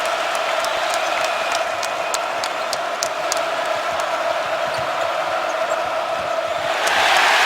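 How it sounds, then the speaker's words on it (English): Crowd in an NCAA men's basketball arena cheering loudly and steadily, a dense roar that swells near the end, with a ball bouncing on the court beneath it. "that gets the crowd back into it as well"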